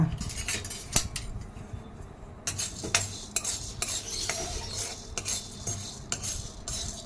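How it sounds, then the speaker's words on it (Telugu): Lentils and spices such as urad dal, chana dal, mustard seeds and cumin dry roasting in a pan, stirred with repeated metallic scrapes and clinks of a spoon over a soft rustling hiss, close by. "పొడిపూర్లు ముక్కుట్లో వేయించుకోవాలి అదొకటే కాదండి మినప్పప్పు శనగపప్పు ఆవాలు జీలకర్ర"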